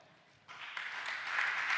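Audience applause at a startup pitch competition grand final breaks out after a quiet moment, rising into a sustained wash of many hands clapping, with no talking.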